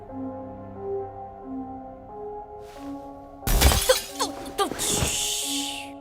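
Glass shatters loudly in an animated series, a sharp crash with scattering fragments and a bright ringing tail over a background music score, following a quiet stretch of music.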